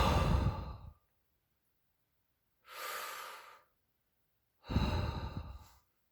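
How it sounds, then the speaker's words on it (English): Deep, slow, controlled breathing as a calming exercise, with three long, close breaths: a heavy exhale, then a quieter breath, then another full one, each separated by silence. "Deep, slow, controlled breathing and focusing"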